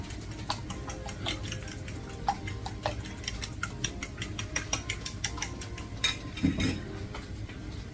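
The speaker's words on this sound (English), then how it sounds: "we'll take a fork and we beat it" A fork rapidly beating eggs in a bowl while making breakfast, with quick, steady clinking taps against the bowl sides repeating close up at a brisk rhythm, alone without talk.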